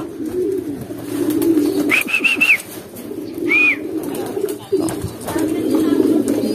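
Pigeons coo in short warbling phrases close by, over steady low background noise and a brief knock.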